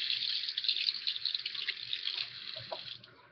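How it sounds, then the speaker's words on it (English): A kitchen tap runs steadily while hands are washed under it after emptying an egg shell, a close, continuous hiss of flowing water that thins out near the end. "Now I need to wash my hands."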